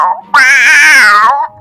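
A cartoon cat gives a single loud, drawn-out meow lasting about a second in an animated Hindi children's story, close and clear.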